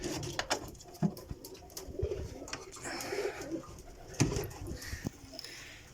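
Teddy pigeons in a loft in Kotli, Azad Kashmir coo softly and repeatedly. Several birds overlap in low, rolling calls with faint rustling nearby.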